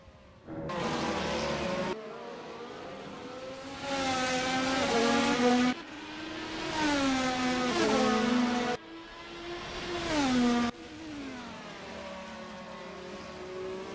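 A race car at Interlagos drives down pit road, its engine note rising and falling through a series of gear changes with abrupt cuts between gears, loud and fairly close, with no talking.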